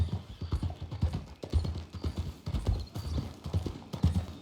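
Steady, rhythmic clip-clop of horse hooves walking on hard ground in the video game Red Dead Redemption 2, close and clear, with a faint murmur of voices underneath.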